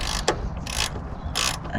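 A ratchet wrench tightening lock nuts on a Rover P4 propshaft, a few quick clicking ratchet strokes, close and fairly loud over a low rumbling background.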